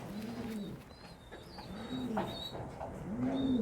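Pigeons, including Spanish and homing birds, coo repeatedly in a loft, with low rolling calls arriving in several bouts at moderate distance over faint chirps.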